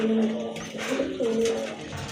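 A pair of pigeons kept for sale, one a silver type, coo in close, soft repeated low calls running steadily over a short stretch.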